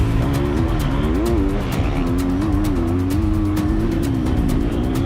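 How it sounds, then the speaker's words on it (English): A Triumph motocross dirt bike accelerates hard out of a corner on loamy ground in second gear, its engine note rising and wavering loudly and continuously close by. "it is good how it pulls coming out of the corner, especially in second gear"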